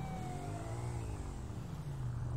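A police car siren in GTA 5 wails continuously over a steady, loud engine and road rumble during a pursuit, sustained throughout without pauses.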